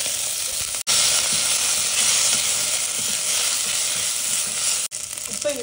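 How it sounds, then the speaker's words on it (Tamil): Fennel seeds and curry leaves fry in hot oil in a pressure cooker, giving a loud, steady crackling sizzle that carries on almost without a break, with two very short dropouts and no talking. "ஒரு குக்கரில் எண்ணெய் ஊற்றிட்டு சூடானதும் அதில் கொஞ்சம் சோம்பு,"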